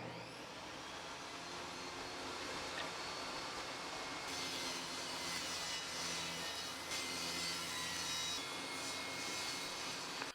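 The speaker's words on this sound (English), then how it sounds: "Now it's time to cut a straight edge on the table saw." Table saw running and cutting a straight edge, a loud continuous whine and roar that holds steady for the whole stretch, with a brighter, harsher tone while the blade is in the wood.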